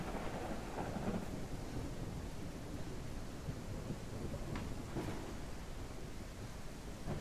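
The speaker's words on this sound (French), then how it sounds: "Le bruit de l'orage est terrifiant, il est vraiment très bien fait." A thunderstorm in a survival video game gives a continuous roar of heavy rain with low rumbling thunder and a few sharper crackles. The sound is steady and immersive, with no voices.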